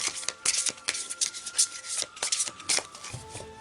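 Oracle cards being shuffled by hand, a close, steady run of papery riffles and flicks repeating quickly without speech.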